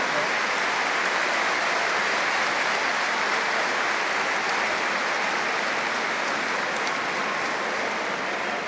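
A largely Serbian crowd at a women's EuroBasket basketball game applauds steadily, a broad, even wash of many hands clapping at a distance, sustained without breaks.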